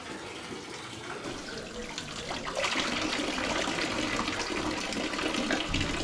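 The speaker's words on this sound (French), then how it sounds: "Et je crois que je vais aller boire de l'eau de cette source." Water from a natural spring flowing steadily outdoors on a clear day in Switzerland, a continuous close splashing rush that grows a little fuller partway through, with no talking.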